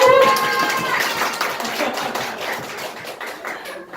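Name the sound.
audience clapping to welcome newcomers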